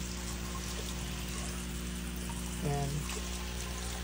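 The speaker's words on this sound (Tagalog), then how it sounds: "Ayun, nilalagyan ko ngayon ng tubig itong kabilang pond." Water runs steadily and continuously into a backyard crayfish pond as it is refilled after a filter overflow, forming an even rushing wash with a short spoken word partway through.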